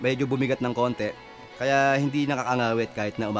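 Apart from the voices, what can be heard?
No distinct noise like a dog, phone or traffic.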